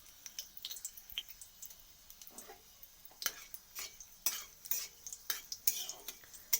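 A spoon scrapes and clicks against a pan as broken dried red chillies fry in mustard oil with semolina, giving irregular close stirring taps over a faint sizzle.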